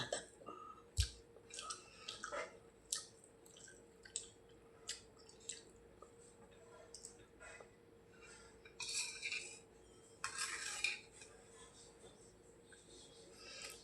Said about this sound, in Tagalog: Nagtimpla na nga ako ng kaunting kape.